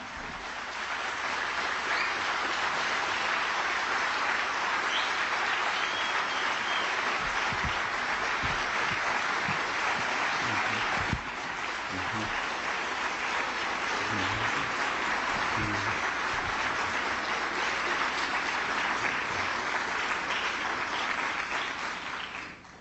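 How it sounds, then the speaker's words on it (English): A long, steady round of audience applause welcoming the scholar Dr. John Henrik Clarke to a lecture, dense and even from start to finish, with occasional low murmurs beneath. "giving a round of applause for our scholar, Dr. John Henrik Clarke"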